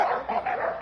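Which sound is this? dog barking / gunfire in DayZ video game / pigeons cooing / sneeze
dog barking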